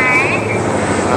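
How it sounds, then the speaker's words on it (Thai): An airplane passes overhead near an overgrown, abandoned house in a neighborhood, heard as a steady, broad engine roar that fills the short moment while people talk close by. "เครื่องบินเครื่องบิน"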